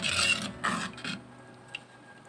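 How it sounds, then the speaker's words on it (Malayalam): A spoon scrapes and stirs bitter gourd theeyal curry in a pot, making a few close, soft scraping strokes that fade to quiet clinks. "നമുക്ക് ഈ കറി ഒന്ന് ഇളക്കി കൊടുക്കാം"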